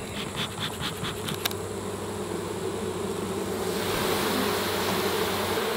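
A swarm of irritated honey bees buzzes around a slanted hive during a honey harvest, a dense continuous drone that swells slightly toward the end, close and loud with no talking.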